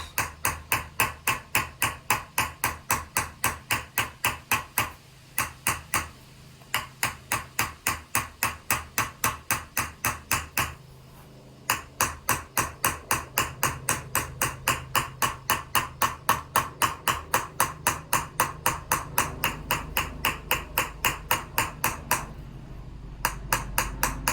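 A flat-faced hammer chases a metal vessel, striking in fast, even, ringing taps, close and bright, with a few short pauses before the steady rhythm resumes.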